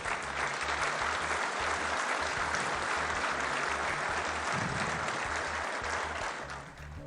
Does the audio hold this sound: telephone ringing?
no